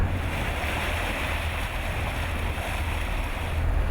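Boat engine in gear driving a vessel along Ireland's west coast, a steady low rumble blended with constant wave wash and wind noise, loud and continuous throughout.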